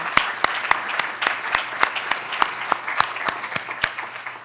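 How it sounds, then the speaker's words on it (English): Audience applause at a college address, a crowd clapping in a lively burst with sharp individual claps standing out, close and steady throughout. "please give yourselves a round of applause"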